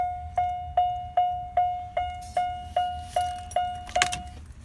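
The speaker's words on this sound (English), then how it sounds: "Turn the key, nothing happens." A key is turned in the ignition of a 1994 Oldsmobile that fails to start. A warning chime repeats about ten times in an even rhythm with no engine cranking, then a brief jangle of keys follows.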